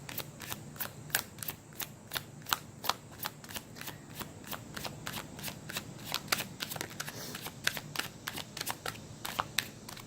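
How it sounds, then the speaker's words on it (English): Tarot cards are shuffled by hand in quick crisp riffles, a fast irregular run of close, light snapping flutters with no talking. "Let's pull another card."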